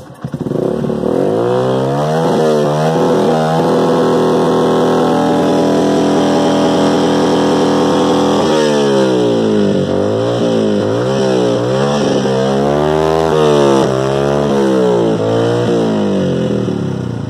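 A Yamaha FZ25 motorcycle engine runs loudly and close by, with repeated revs rising and falling in pitch over a steady idle for about seventeen seconds, and no talking.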